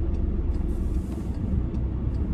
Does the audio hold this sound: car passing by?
yes